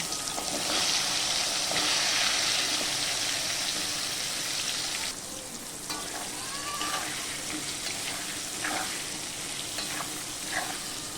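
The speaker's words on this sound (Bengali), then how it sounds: "দিয়ে আমি আগে পেঁপেগুলো ভালো করে ভেজে নেব" Papaya pieces frying in mustard oil with salt and turmeric give a loud, continuous hissing sizzle nearby, easing a little midway, with occasional light stirring knocks.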